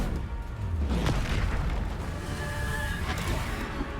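Bombarda blast spells in the Hogwarts Legacy video game, heard as deep booming explosions with bursts near the start and again around three seconds, over a continuous rumbling game soundscape.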